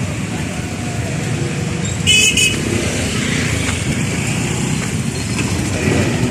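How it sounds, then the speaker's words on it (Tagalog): Heavy road traffic along Alapan in the Philippines, a steady loud roar of car and motorcycle engines passing close by, with a brief horn toot partway through and faint voices in the background. "Ayun, traffic doon."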